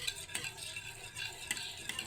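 Ghee and oil being stirred into beaten eggs in a bowl for a Pakistani egg halwa, heard as a faint, close, soft wet mixing with light clicks of the utensil against the bowl.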